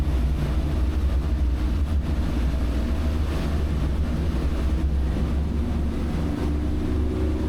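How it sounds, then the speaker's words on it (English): A Boston Whaler 365 Conquest motorboat accelerates to wide open throttle, its engine roaring steadily and loudly, with rushing water and wind buffeting the microphone throughout. "we're actually just going to increase right up to wide open throttle"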